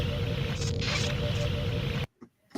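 Radio-drama transmission dropout effect: a steady bed of hiss and low hum with faint warbling tones runs for about two seconds, then cuts off abruptly into near silence with a brief burst crackling back in.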